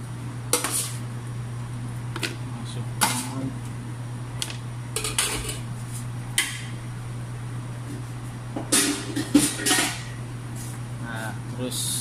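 Watermelon pieces drop into a blender jar with a series of knocks and clatters spread irregularly over steady background hum, louder toward the end, while a person talks.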